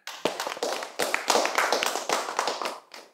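Hands clapping during a spoken talk: a quick run of sharp, close claps in an uneven rhythm, loud and with no voices over them.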